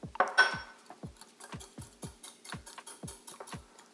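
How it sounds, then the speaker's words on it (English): Lemon poppy seed muffin batter mixed in a bowl, a quick irregular series of light clicking and tapping strokes from a utensil against the bowl, close and fairly quiet with no talking. "Go ahead and mix it all together."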